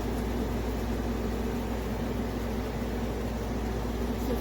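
A hOmeLabs 5000 BTU window air conditioner with mechanical controls runs in a living room, a constant close whooshing hum with a low steady drone, unchanging throughout and with no voices.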